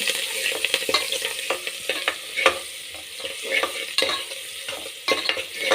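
Onion and curry leaves being stirred and fried in a pan for poori vegetable sagu, a continuous close sizzle broken by repeated scraping strokes of a spoon against the pan.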